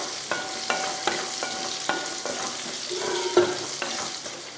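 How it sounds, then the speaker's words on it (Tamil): Raw diced potato frying in oil in a pan, a steady close sizzle broken by regular scraping clacks of a spatula stirring roughly every half second, with one louder scrape near the end. "உருளைக்கிழங்கையும் 2 நிமிஷம் வதக்கியாச்சு."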